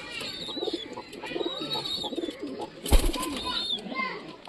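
Pigeons in a home loft, soft repeated cooing and chirps close by, with a person talking over them and a brief clatter midway.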